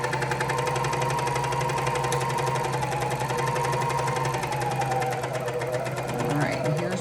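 A Juki MCS1500 coverstitch machine runs slowly through already-stitched fabric, a steady close mechanical hum with an even, rapid needle rhythm throughout, while a person talks over it.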